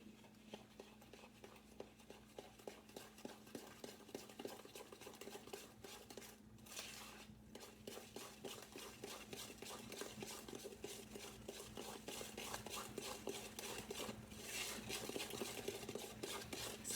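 Red beans with milk stirred in are mixed by hand, a spoon clinking and scraping against the pot in a steady rhythm, fairly quiet and close throughout with no talk.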